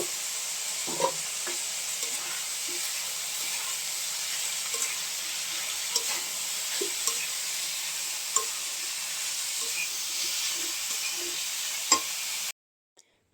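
Bitter gourd frying in hot oil in a pan gives a steady, close sizzle throughout, with occasional soft clicks and scrapes from stirring and no voices.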